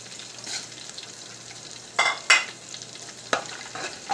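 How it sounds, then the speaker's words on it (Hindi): Quiet kitchen background with a few short bursts of whole spices sizzling and being stirred in a pan with fried ginger-garlic for mutton pulao, spaced irregularly, with no talking. "अब इसमें साबुत मसाला ऐड करेंगे"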